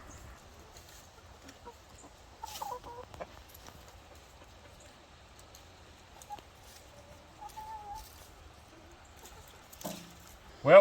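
ISA Brown hens and roosters clucking and calling in a farmyard, scattered short clucks and murmurs at a moderate distance in quiet surroundings, with a louder squawk at the very end.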